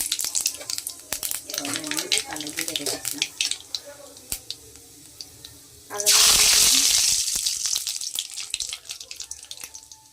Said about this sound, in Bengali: তেলটা আমার গরম হয়ে গেছে এবার আমি কালো জিরে দিয়ে দিচ্ছি এর মধ্যে ফোড়নে